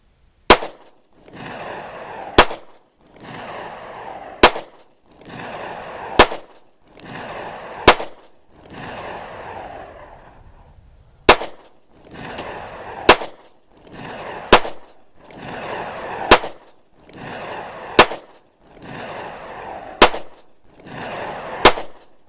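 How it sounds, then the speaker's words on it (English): A Taurus PT111 pistol fires a long string of sharp, loud shots outdoors, about a dozen evenly spaced cracks each trailed by a brief decaying echo, with no talking. "I'm gonna go ahead and shoot off this way"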